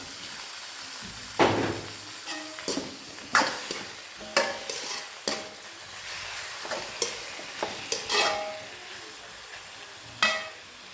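Chicken pieces and softened onions sizzle in a pan for a spicy pasta dish, with a soft frying hiss under repeated sharp scrapes and clacks of a spoon stirring, close and fairly quiet.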